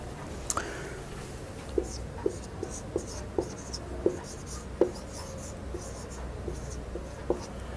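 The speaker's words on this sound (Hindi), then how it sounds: "हम टोटली फार्मूला लिख देते हैं" Chalk or marker writing math formulas on a board in a classroom lesson, a series of sharp regular taps and strokes about every half second over a quiet room hum.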